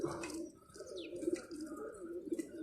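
Domestic pigeons coo in soft, repeated low phrases from a nearby loft, with faint chirps and rustling between the calls.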